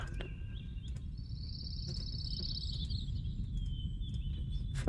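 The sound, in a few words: frog sound in video game Riven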